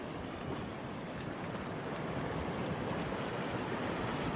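Steady broadband rush of sea waves washing onto a rocky beach at sunset, continuous and fairly loud with no talk over it, a constant wash of surf and wind.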